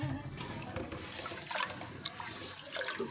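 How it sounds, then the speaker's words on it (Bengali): Rice is rinsed by hand in water, with close, continuous sloshing, trickling and small splashes throughout. "ভালো করে চালটাকে এবার ধুয়ে নেব"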